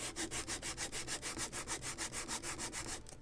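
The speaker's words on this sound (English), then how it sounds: "So we can start just sanding it" A sanding block rubs back and forth on a wooden plank for a model ship, with about sixteen quick, even scraping strokes, close and clear with no talking.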